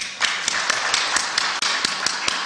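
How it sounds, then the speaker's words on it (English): Audience clapping at the National Wildlife Corridors Forum, a loud close wash of applause with sharp individual claps punctuating it in a rough rhythm, a voice faintly underneath. "Okay, let's clap for him until he sits down."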